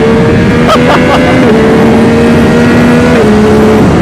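A 2025 Yamaha R9 motorcycle engine pulls at about one-third throttle on a road ride, giving a loud, sustained drone with steady pitch and brief shifts, mixed with heavy wind rush.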